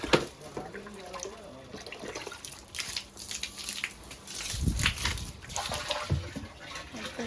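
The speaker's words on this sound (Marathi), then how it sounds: "मोटर लावले, आता पाणी चढायला वरती टाकीत." Motor-pumped water filling a household overhead tank, a continuous splashing, trickling flow with surges of louder gushing partway through; faint talk is present in the background.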